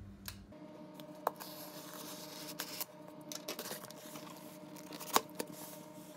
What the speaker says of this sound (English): Always cut away from yourself. Big old knife away. Get this thing open.